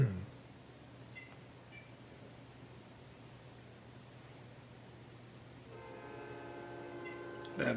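Far off, a passing train sounds a low steady rumble under faint background hiss, then its horn blares in sustained tones toward the end, distant and fairly quiet.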